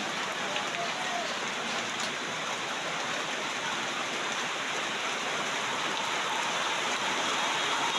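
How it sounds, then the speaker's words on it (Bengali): Heavy rain falls steadily on a street in Mirpur, a dense, even hiss of downpour that stays constant and fairly loud from start to end, with no distinct voices standing out. "আমাদের মিরপুর আশপাশেও কিন্তু প্রচুর বৃষ্টি হচ্ছে"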